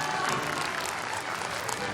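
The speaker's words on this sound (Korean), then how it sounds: "여러분 큰 박수 부탁드립니다" At an Incheon high school debate contest award ceremony, the audience applauds the finalist teams with a steady, dense wash of clapping that holds level throughout.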